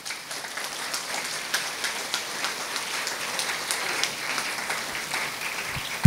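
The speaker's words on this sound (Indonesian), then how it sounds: "Tepuk tangan sekali lagi." Steady applause from a crowd at an Indonesian school ceremony for National Teachers' Day, a dense, even patter of many hands clapping at moderate distance, with no talking over it.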